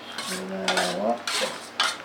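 A mixture with a little salt is stirred in a bowl, giving a few scraping clinks of a utensil against the dish, close and moderately loud, with a faint hum in the background.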